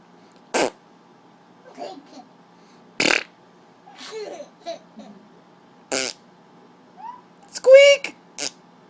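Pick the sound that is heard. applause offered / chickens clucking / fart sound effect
fart sound effect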